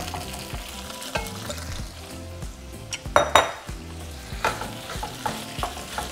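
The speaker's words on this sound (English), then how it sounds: "And now we're going to fry it for a couple minutes." Pork meat frying in a hot pan for red pork tamales, a steady close sizzle with repeated scraping and stirring knocks of a utensil against the pan.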